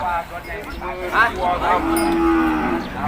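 Cattle moo at a busy livestock market in Thailand, several long drawn-out calls overlapping, fairly close and loud against a steady crowd murmur.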